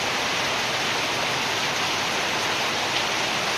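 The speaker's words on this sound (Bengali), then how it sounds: "অবিরত বৃষ্টি নামে" Steady, unbroken rain pours down in an even, dense hiss with no pauses, a downpour that falls every day over a rural home.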